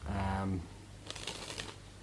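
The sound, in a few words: playing cards being shuffled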